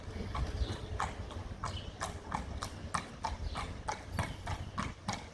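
A big, relaxed horse walking at a parade, its hooves striking the ground in a steady, even clip-clop rhythm over low background noise.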